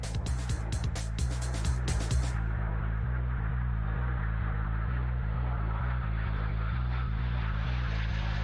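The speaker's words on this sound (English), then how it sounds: "Next up was the fighting version of the JP, the Strike Master." A BAC Strikemaster jet, painted in Botswana Defence Force colours, flies at a British airshow: a loud, steady engine roar holds throughout, with sharp clicking bursts early on before settling into a sustained drone.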